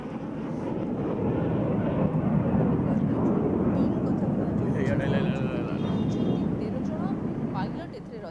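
Fighter jets of the Surya Kiran aerobatic team fly over Bhubaneswar during the 2022 air show, their loud rumbling roar holding steady and close for several seconds before easing slightly at the end.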